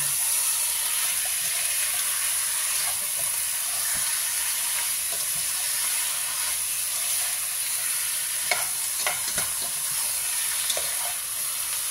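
Chicken sizzling and being stirred in a hot pan, a steady loud frying hiss throughout with a few sharp crackles and scraping stirs near the end.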